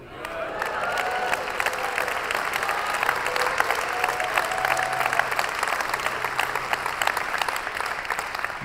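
A sermon audience breaks into sustained applause, dense steady clapping from a large crowd filling the room at an even loudness throughout.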